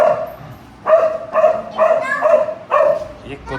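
A dog yaps and barks excitedly in short bursts, fairly close, in a home setting with a steady hum underneath.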